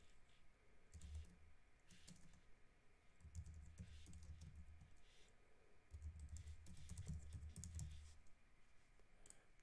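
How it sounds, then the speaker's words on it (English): Steady typing on a computer keyboard, soft key clicks coming in short bursts with brief pauses between them, close and quiet, with no talking. "additionally I will be typing a request body"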